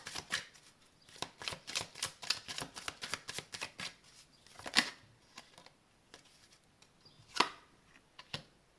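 Tarot cards riffled and shuffled by hand for a reading, a quick run of crisp papery flutters followed by a few sparse, sharper card snaps, close and fairly quiet with no talking.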